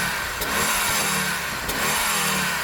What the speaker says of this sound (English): I'm going to start by revving up this old Quattro 20 valve.